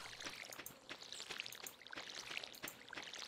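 A watering can in Stardew Valley gives repeated soft pouring splashes on crops, quiet bursts of trickling water in quick succession with no talk.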